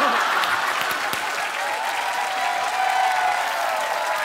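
Studio audience at a Korean comedy show applauds steadily and loudly throughout, a dense wash of clapping with some crowd noise mixed in.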